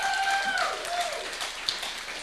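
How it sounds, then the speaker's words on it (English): Audience applause at a regeneration conference follows a presentation, a short spell of clapping and crowd noise at moderate level, while a whistle-like rising and falling tone sounds over the start. "Round of applause."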